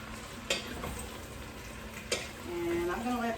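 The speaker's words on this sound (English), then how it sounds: "I'm gonna let those saute a little bit" Steady sizzle of squash and zucchini sautéing in a pan, with a couple of sharp clinks from stirring and a faint voice in the background.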